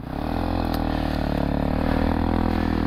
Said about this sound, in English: Here's a Smoky 2 banger.